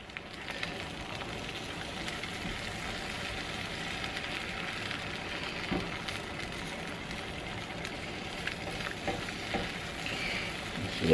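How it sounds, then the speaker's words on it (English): Egg omelet mixture frying in a hot pan over medium-high heat, French style, gives a steady, soft sizzle throughout with faint scraping as the egg is pushed toward the middle. "This is when we start moving it in. Spreading the egg mixture to the middle."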